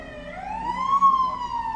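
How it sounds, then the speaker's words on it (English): A police siren passes outside in Philadelphia, one long rising and falling wail that swells in the middle, moderately loud and heard on its own. "I apologize for the siren."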